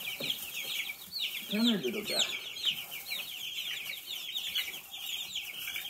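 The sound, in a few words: meat chickens clucking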